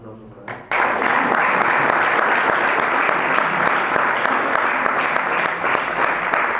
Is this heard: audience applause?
yes